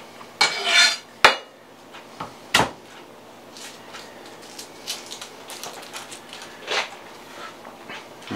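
Whole garlic cloves smashed on a kitchen counter, a few sharp knocks and clacks early on followed by softer scattered taps, close and alone with no talking.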